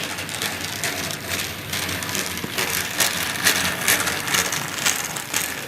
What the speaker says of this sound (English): it's a very grouchy motor as well. Loud motor.